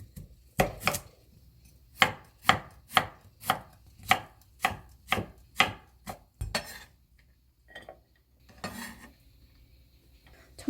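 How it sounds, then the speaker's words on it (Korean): A knife cuts carrots into thin julienne strips on a board, landing about a dozen sharp, evenly spaced chops close by, then a pause and a few looser knocks and scrapes. "먼저 당근은 채 썰어 주세요."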